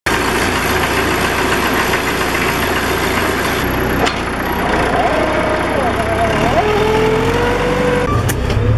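A farm machine's diesel engine idles nearby in a loud, steady rumble that keeps going throughout, with a brief creak and a faint whine partway through.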